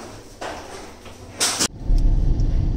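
Car interior while driving on the way to a mall, with a steady low road and engine rumble, a brief loud broadband burst like a door or wind noise, then a heavier low rumble as the car moves off.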